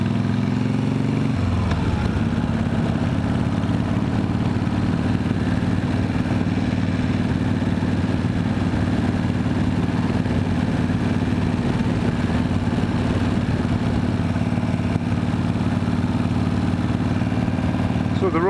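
A Harley-Davidson Road King touring motorcycle engine runs while riding, a loud continuous low rumble with wind noise for the full length and a small shift in pitch near the start.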